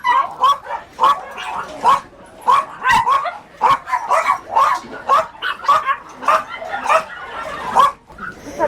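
Several dogs bark repeatedly at a Korean dog meat farm, a near, loud string of sharp, uneven yaps and barks with brief pauses between bursts.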